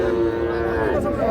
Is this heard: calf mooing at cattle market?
yes